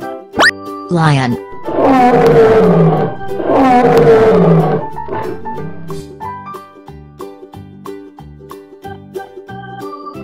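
A lion roars twice in a cartoon-style children's animal and colors song, two long loud roars close together, followed by light plinking music.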